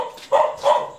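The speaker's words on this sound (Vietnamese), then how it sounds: "Chó thì lạ, nó sủa rất là kinh." A dog barking close by, two loud, sharp barks in quick succession with a short pause between them.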